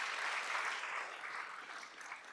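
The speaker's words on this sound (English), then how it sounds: "I'd just like everyone to give one more big round of applause to Connie Brothers." A hall audience at a retirement celebration gives a sustained round of applause, a dense steady wash of many hands clapping that fades slightly toward the end, with no voices over it.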